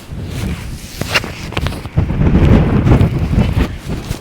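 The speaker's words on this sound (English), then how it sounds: "So windy today." Strong wind gusts roar across an Oregon–California beach near Brookings, a loud buffeting rumble battering the microphone in surges with no talk.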